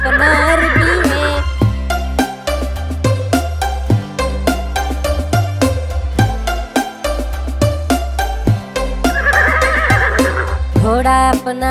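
Horse neighing, loud whinnies opening and closing a bouncy children's nursery rhyme song about an Arabian horse, with steady percussion and clip-clop rhythm throughout.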